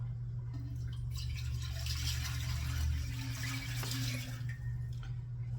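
Water poured from a pitcher into a pot on a stovetop burner, a steady close trickle and splash running throughout over a low hum.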